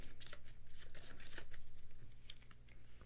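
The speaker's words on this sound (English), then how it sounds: "So this deck is going to shuffle." A deck of cards being shuffled during a Pandemic: Reign of Cthulhu board game, a run of crisp, close riffling flutters over about three seconds with no talking.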